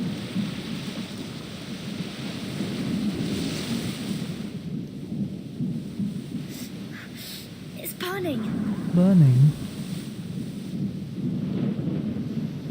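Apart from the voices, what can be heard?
thunderstorm in the video game Reverse 1999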